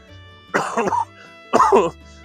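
Two distinct coughs from a man at an allotment plot, close and loud, separated by about a second over a faint steady hum.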